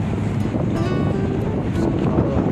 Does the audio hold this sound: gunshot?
no